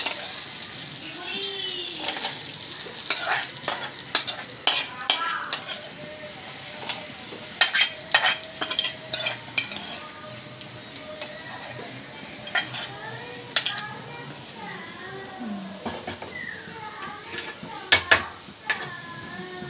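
Yam pieces and other chutney ingredients sizzle and fry in a pan on the stove, with repeated clinks and scrapes of a spoon stirring against the metal across the whole stretch, close and steady with no talk.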